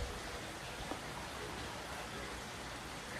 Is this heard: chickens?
no